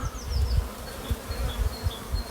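Honey bees at an apiary hive entrance bringing in pollen give a continuous close buzzing with individual insects whining past now and then, against low rumbling handling noise.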